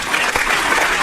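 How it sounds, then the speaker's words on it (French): Studio audience applause on a French-language talk show, a steady dense burst of clapping filling the whole short moment, loud and close with no voices over it. "Applaudissements de semi-mini-pot."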